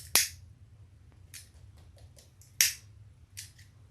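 Scissors trimming loose threads on a sewn mini tote bag, a few sharp close snips spaced out over a few seconds against a quiet background.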